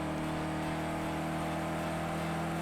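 A race car engine in the Project CARS 2 driving game holds a steady, loud drone, revving early in the rev range, with no voices.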